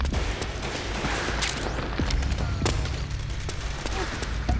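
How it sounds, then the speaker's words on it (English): Suppressing gunfire in the Metal Gear Solid 4 video game: dense, overlapping shots and sharp cracks in a continuous loud barrage, with shouting voices mixed in. "Back me up! Suppressing fire!"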